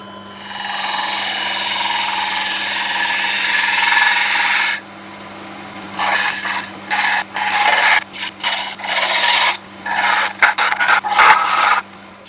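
A lathe tool scrapes continuously against spinning wet walnut while hollowing it, over a steady motor hum, then cuts in short, repeated bursts with brief pauses between.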